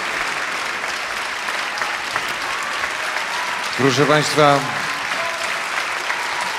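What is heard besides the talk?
concert audience applause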